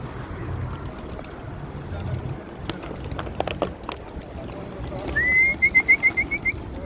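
A large flock of pigeons at a feeding spot takes off in a soft flutter of wingbeats over quiet outdoor ambience, followed by a short run of clear whistled notes near the end.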